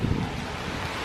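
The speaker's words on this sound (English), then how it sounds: "there's another squall coming in, and I think as the wind is starting to pick up" Strong wind during a Hurricane Hermine squall buffets the microphone, a steady loud rush with a heavier gust at the start and no voices.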